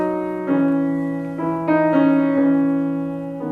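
A piano plays a few sustained notes of a plain scale, each key struck clearly and left ringing as the next one sounds, close and unhurried, with no voices.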